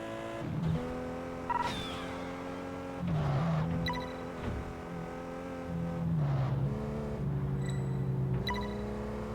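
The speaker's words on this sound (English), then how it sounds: "one of the cars of which they didn't really make the sound all that like very close to the real thing" A racing car engine in the video game Test Drive Unlimited 2 drones and revs in repeated waves, pitch dropping and climbing through gear shifts, steady and electronic-sounding with no talking.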